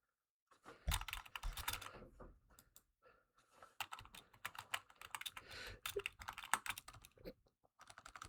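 Quiet, rapid typing of an email message on a computer keyboard, with dense bursts of soft key clicks broken by short pauses, heard close and alone without talk.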